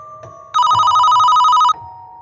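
A cellphone ringtone bursts in loud and close, a bright repeating electronic melody that rings steadily for just over a second and then stops, with a quiet background tone before and after.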